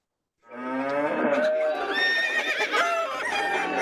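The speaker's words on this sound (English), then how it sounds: "And the fleeing animals in the city, who were with their friends, as always, those cows." Cows moo loudly and close up as a sound effect in a school spring radio play, a long drawn-out lowing that sounds almost whinnying, with overlapping calls.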